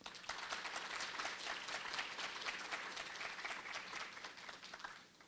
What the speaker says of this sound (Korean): 한 분 한 분 소개될 때마다 따뜻한 환영의 박수 부탁드립니다